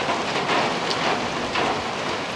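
Steady rain pours down around a large pavilion picnic shelter at a Florida campground, a dense, even hiss of drops on the roof and ground lasting throughout with no voices.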